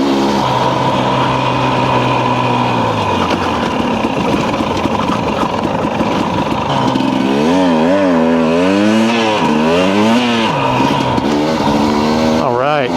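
Dirt bike engines on a forest road rev and drone loudly and without a break, the pitch rising and falling with the throttle, while a voice speaks over them.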